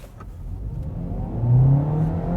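Kia Niro HEV hybrid car accelerating hard in Sport mode, a steady mid-pitched engine drone and whir rising in pitch as it pulls away, heard close from inside.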